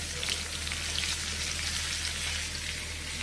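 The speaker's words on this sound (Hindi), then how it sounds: "तो सब्ज़ी छौंक दी थी मैं, धीरे धीरे पकती रहेगी" Vegetables sizzle and fry steadily in a pan after tempering, a continuous soft crackling hiss with a low steady hum beneath, no voices.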